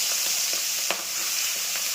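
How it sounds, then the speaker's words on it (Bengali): Fish rubbed with salt and turmeric frying in hot mustard oil in a home kitchen, a steady close hiss of sizzling with small pops and crackles and one sharper spatter. "মাছগুলোকে ভেজে নিচ্ছি।"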